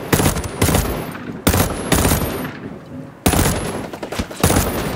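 Ghost Recon Breakpoint gunfire rattles in several loud automatic bursts, each a sharp dense volley separated by brief lulls of softer ambient noise, close and forceful with no talk.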